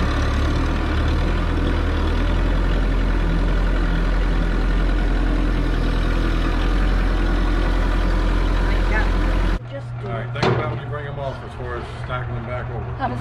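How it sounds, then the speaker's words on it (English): A tractor engine idles at a firewood-splitting site, a steady low rumble that runs loud and close for about ten seconds before cutting off, after which speech and work noises follow. "And here she comes with the tractor."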